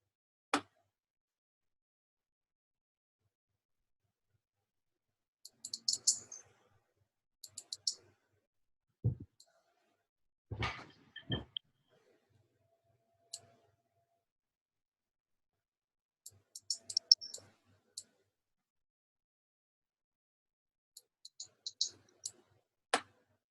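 A computer mouse clicks on a desk during work in options trading software, giving sparse, quiet clicks in small scattered clusters separated by long silences.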